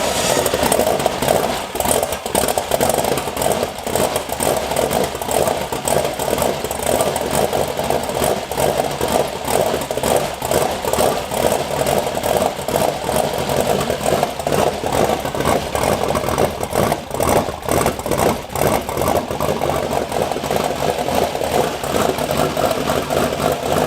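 A turbocharged LS V8 in a Mustang idles steadily and loudly, holding a continuous lumpy rumble with small fluctuations throughout.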